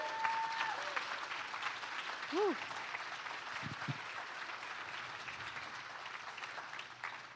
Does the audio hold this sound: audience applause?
yes